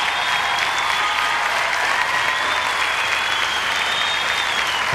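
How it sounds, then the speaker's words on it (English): Loud, sustained applause and cheering from a crowd at the 2002 IDSF Standard ballroom dance championship, a dense, unbroken roar of clapping throughout. "Thunderous support from the crowd."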